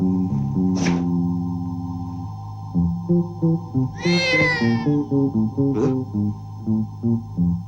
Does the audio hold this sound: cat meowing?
yes